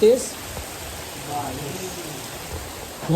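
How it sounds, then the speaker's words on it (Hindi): Heavy rain falling near a roadside bus stop in Himachal Pradesh, a steady dense hiss of drops on surfaces throughout, with faint voices underneath. "तेज़ बारिश हो रही है।"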